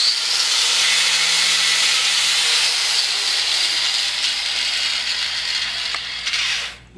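A harsh, sustained abrasive grinding rasps close and loud as old paint is stripped off a brake caliper down to bare metal, running steadily before cutting off at the end.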